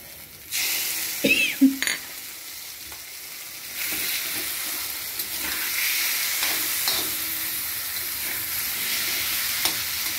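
Green chilies and other ingredients for eggplant bharit are sautéed in a hot pan, a steady crackling sizzle punctuated early by spoon clinks and scraping stirs, carrying on alone without speech.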